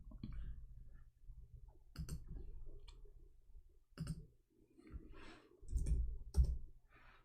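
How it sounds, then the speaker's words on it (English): Fingers type on a computer keyboard in irregular bursts of close clicks, some brief and some longer runs, with short pauses between them. "let me type it for you"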